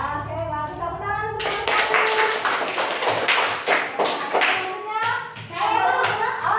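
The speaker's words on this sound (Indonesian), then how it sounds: "Ya, oke, bagus. Tepuk tangan." Classroom clapping as children applaud in a lesson, a short run of uneven claps and taps between a teacher's voice at the start and end.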